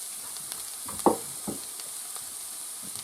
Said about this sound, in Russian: И тоже обжариваем